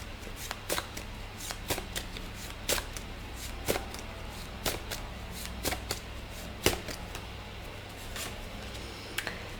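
Tarot cards are shuffled by hand, producing a rapid series of soft, crisp slaps and riffles at close range. The shuffle is fairly quiet and uneven in rhythm, with no talking.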